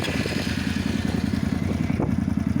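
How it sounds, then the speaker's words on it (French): A Honda Varadero 125 twin-cylinder motorcycle engine running just after starting, a loud steady pulsing idle with a rhythmic mechanical throb close by. "Donc je vais démarrer la moto."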